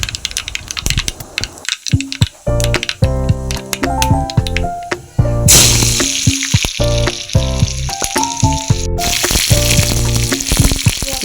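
Dried chili, shallots, garlic and curry leaves tempering in hot oil make sharp spattering crackles and a loud hissing sizzle, with clatter of a utensil and bursts that surge midway.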